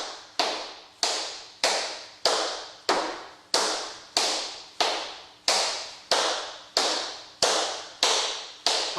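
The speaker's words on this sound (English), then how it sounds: "You can never do too many shuffles." Tap dance shoes doing beginner shuffles on a hard floor, a steady series of about fifteen crisp, evenly spaced metallic taps, close and loud with no talking.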